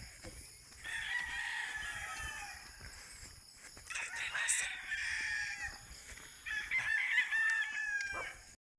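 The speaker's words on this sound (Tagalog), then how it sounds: "Ang daming manok" Several roosters crow in long, strained calls one after another, with scattered clucking between them, fairly close in an outdoor setting.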